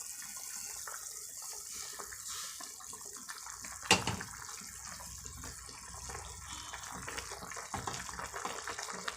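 Semolina is poured little by little into boiling water for a corn kitchadi and stirred, giving a faint, steady watery bubbling with one sharp clack partway through.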